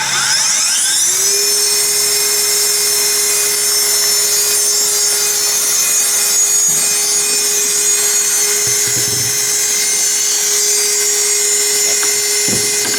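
Technica ZSM-5100 center hole grinder with rotary-planetary circular motion winding up, a loud whine rising in pitch over the first second, then holding a steady high-pitched drone that continues alone.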